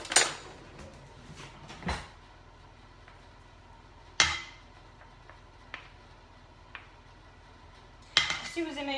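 A spoon fills fish in a kitchen with scattered metallic clinks and clatters of cutlery against dishes, a few louder knocks spaced apart, while someone talks quietly.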